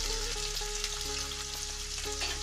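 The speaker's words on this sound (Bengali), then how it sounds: "তেলটা গরম হয়ে গেছে, এবার আমি পেঁয়াজটা দিয়ে দেবো।" Onions hit hot oil for a Bengali-style chicken kosha, making a steady, moderately quiet sizzle over a faint droning hum, with no talking.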